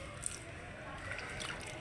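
Water lightly sprinkled by hand onto the soil of a potted rose plant, a soft continuous wet patter and trickle at low level with faint drips.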